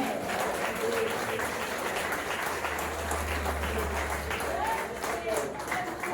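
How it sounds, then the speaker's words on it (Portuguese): A congregation at a healing and deliverance church service claps, a fairly faint but sustained patter of applause mixed with voices and a low steady hum in the room. "Quem pode aplaudir a Jesus?"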